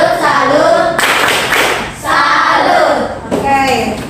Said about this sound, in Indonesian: Oke, tepuk salut dulu, tepuk salut.